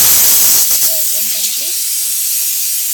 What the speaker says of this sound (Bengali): শুধু নীলের সিটিটা এখন হচ্ছে আরও দু তিনটে সিটি পড়বে